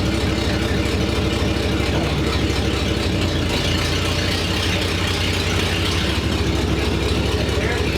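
The Meat Truck, fitted with a new exhaust, runs on a test drive with a constant, throaty, rumbling engine drone, while voices talk over it.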